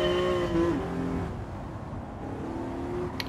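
In Gran Turismo 7, a car's engine holds a steady, loud rev with a brief dip and climb while driving, accompanied by continuous road and tire noise and no voice.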